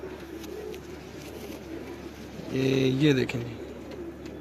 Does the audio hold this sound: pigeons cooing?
yes